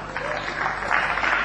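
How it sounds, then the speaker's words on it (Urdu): A studio audience on a talk show claps for Nadeem J, a moderate, even ripple of hands that swells slightly toward the end. "ندیم جے کے لیے تالیاں."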